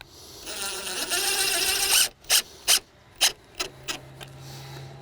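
A power driver sinks a hidden-fastener screw through a wooden deck board into the joist, with a sustained whining run followed by five or six short, sharp bursts as the screw is finished, close and loud, with no talking.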